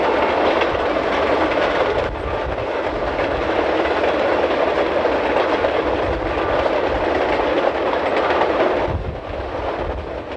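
An Alaska Railroad train runs along the tracks in the evening with a loud, continuous rumble. Steady wheel clatter and rolling noise fill the whole stretch, with no voices.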